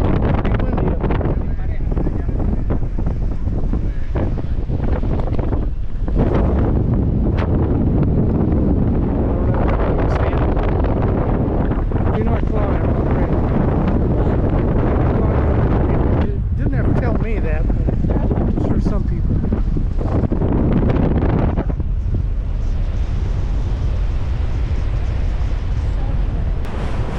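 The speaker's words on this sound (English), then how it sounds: "Pretty windy up there." Strong wind buffets the microphone in gusts on an open deck of the cruise ship Adventure of the Seas, a loud rushing roar with brief lulls and a deep engine hum beneath.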